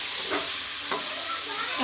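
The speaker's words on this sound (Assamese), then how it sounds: "আলু দি অলপ ভাজি ল'ম" Potatoes frying in a pan give a steady, close sizzling hiss, broken briefly by a couple of soft stirring scrapes.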